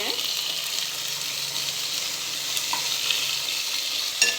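Stuffed tomatoes with potato sizzle steadily in a pan, with occasional scraping and a clack as they are turned over, no talking.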